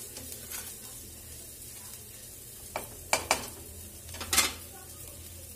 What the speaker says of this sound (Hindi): तो एक मिनट तक थोड़ा सा हम फ्राई होने देंगे ताकि जो हल्दी का कलर है वो अच्छे से आ जाए